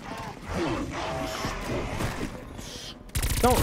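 Ray gun fire aimed at zombies in a round-based video game, a steady dense burst of sci-fi shots lasting several seconds with a sharper, louder blast near the end.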